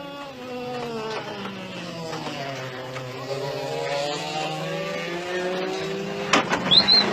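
A low-powered racing machine, with under a twentieth of a Grand Prix car's power, drones steadily on track in 1990, its pitch rising and falling as it revs, close and continuous.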